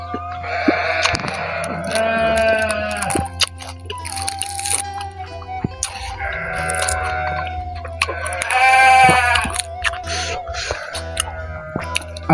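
Sheep in a nearby pen bleat loudly in two long wavering bursts, close by, mixed with crunchy eating sounds from someone having a meal beside the pen.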